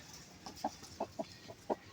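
A hen clucks repeatedly in short, soft bursts at an uneven rhythm, close by over a faint background hiss.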